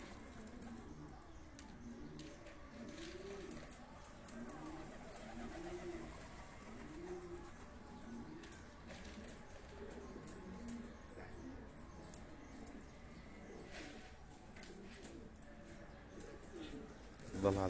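Pigeons coo repeatedly in soft, rhythmic phrases during a bird-trapping outing, fairly faint against a steady background hiss, with a brief louder knock at the very end.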